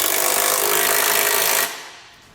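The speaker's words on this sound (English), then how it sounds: "For this flange nut, I'm going to use an 11/16 size socket." A power tool spins a socket to tighten a flange nut on a Curt trailer hitch receiver on a 2019 Chevrolet Traverse, a steady loud whir for about a second and a half before cutting off abruptly.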